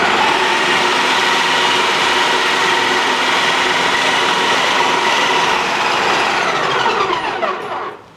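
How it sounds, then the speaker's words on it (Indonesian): IDEALIFE IL-222 food processor grinding meat into meatball mince, a loud sustained motor whir with busy rattling blade texture close by, winding down at the very end. "aku jujur suka banget bikin bakso pakai food processor ini ya"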